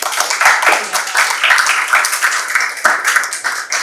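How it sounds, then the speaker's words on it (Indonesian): A classroom of students claps together at the end of a lesson, a dense, lively burst of hands that runs steadily for a few seconds. "Kita tepuk tangan sekali lagi"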